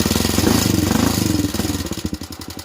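A Honda 300EX ATV engine with a straight FMF pipe and a bad carburetor revs loudly up close, a rapid pulsing exhaust bark that holds briefly, then falters into uneven, choppy firing as it sags.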